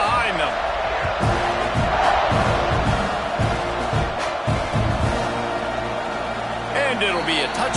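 Football stadium crowd at an Ohio State game building up before a kickoff, a dense, loud roar of cheering and shouting with thumping noises mixed in, holding steady throughout.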